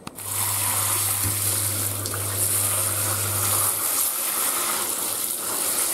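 Water runs steadily from a tap, washing a small dog named Mary's paws after a walk, a continuous broadband gush with a low hum beneath, close and alone without speech.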